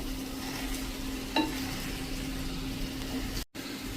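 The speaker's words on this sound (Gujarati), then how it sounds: "અને આપણે હવે આ મિક્સ કરી લેશું" Spiced potato bhaji for a fasting dish being stirred in a pan, a steady soft sizzle with scraping strokes running throughout at close range, one brief dropout near the end, no talking.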